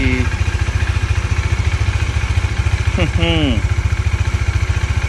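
Kawasaki 400cc motorcycle engine running on an expressway ride, a steady rapid thrumming pulse throughout, with brief voices or whistles breaking in near the middle.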